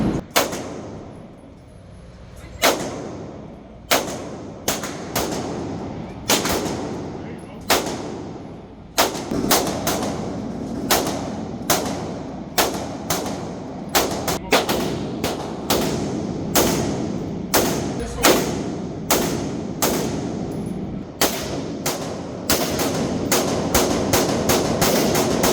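Gunshots ring out on a Texas weekend trip, many sharp loud cracks at irregular intervals, some single and some in quick pairs and clusters, growing denser toward the end over a steady background hum.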